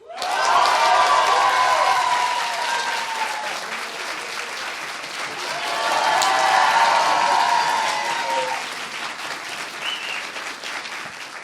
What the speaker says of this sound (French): Je pense effectivement qu'il mérite un tonnerre d'applaudissements.